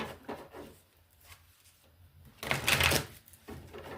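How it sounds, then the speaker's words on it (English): Tarot cards from a flower deck being shuffled by hand, a busy riffling burst in the middle after quieter rustling and handling, close and fairly loud, with no talking. "Couple more shuffles."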